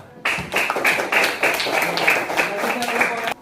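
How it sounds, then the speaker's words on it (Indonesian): A small group of people in a classroom claps together, close and fairly loud, with distinct individual claps forming a brisk, slightly uneven rhythm that starts abruptly and continues for about three seconds. "Mari kita kasih tepuk tangan."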